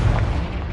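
A fire spell cast in a Harry Potter video game bursts out as a short, loud, low boom with a dense rumbling roar that fills the whole moment, no voices over it.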